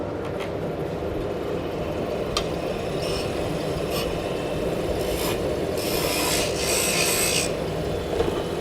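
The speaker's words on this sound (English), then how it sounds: "So I use CBN wheels to sharpen." A lathe tool is sharpened on a CBN grinding wheel, a close, continuous raspy grinding with a steady motor drone beneath and brighter scraping passes toward the end.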